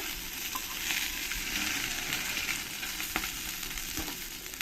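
Puti fish fry in hot oil with a steady, close sizzle and crackle that holds evenly throughout, with a few faint knocks and no voices.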